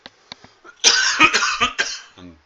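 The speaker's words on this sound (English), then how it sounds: "Excuse me, my coughing." A few faint clicks, then a burst of several harsh coughs from a sick person close to the microphone, trailing off into a low rasp.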